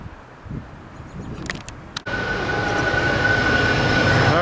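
A Norfolk Southern freight train, a stack train, rounds Horseshoe Curve, its low rumble rising abruptly and holding steady with a faint high steady tone over the rolling rail noise, close and fairly loud.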